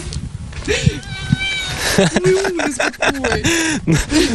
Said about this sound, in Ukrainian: Бачиш, що у нас на базі твориться коти по деревам лазять